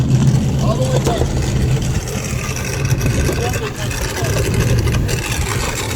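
A car engine labours as the vehicle is driven up a steep slope, a continuous low rumble at moderate volume with people talking over it.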